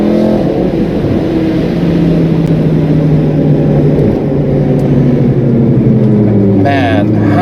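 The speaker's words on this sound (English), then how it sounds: "It sounds like a freaking race car," BMW M3 E46 fitted with a V10 and DCT gearbox, a loud, close, continuous engine rumble with rising and falling harmonic tones as it revs, ending in a sharper revving swell.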